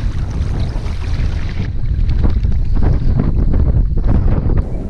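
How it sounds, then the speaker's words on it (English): Gusty wind sweeps across a lake around a kayak, roaring loudly and buffeting the microphone in a constant rumble that swells and eases, with faint water movement underneath. "It's definitely getting kind of gusty right now."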